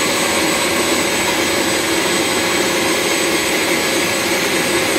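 A Power Wheels ride-on car motor, upgraded to 24 volts with Arduino speed control, whines in a steady, loud drone that stays constant the whole time, with no voices.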